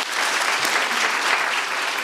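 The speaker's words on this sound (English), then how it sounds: "let's clap for them, please." Audience applause fills a lecture hall at a talk on crime and punishment in Black America, a steady dense clapping that holds at an even level for about two seconds with no voices over it.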